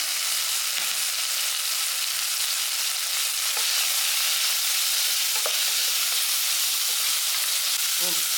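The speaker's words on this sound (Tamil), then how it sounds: "தக்காளி வந்து அளவுக்கு வதங்கினா போதும் இப்போ இந்த குடமிளகாயை சேர்த்துக்கலாம்" Tomatoes and capsicum sautéing with turmeric in a pan for veg biryani, a steady bright sizzle throughout with occasional soft stirring clicks and scrapes, no voices.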